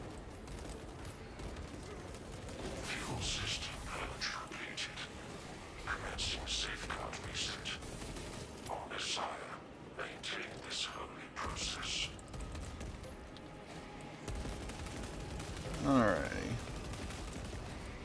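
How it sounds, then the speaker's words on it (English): Heavy bolter rifle in Space Marine 2 firing repeated bursts of heavy automatic gunfire amid dense battle noise, with short pauses between volleys across the whole stretch. "I really ought to tap fire the heavy bolter more"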